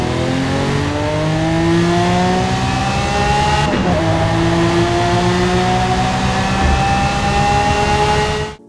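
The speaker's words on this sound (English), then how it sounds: "it's the newly added Lamborghini Murcielago." A Lamborghini Murcielago V12 screams loudly in a racing video game, its pitch climbing steadily through the revs. There is one sharp gear change partway through, then it keeps rising and cuts off abruptly. No voices.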